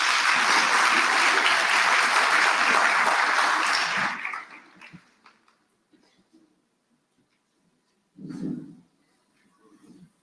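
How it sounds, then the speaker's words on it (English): Applause from an audience at a national SRC induction ceremony, loud and dense for about four seconds before fading out, followed by a brief burst of indistinct voices. "Let's give him a good round of applause."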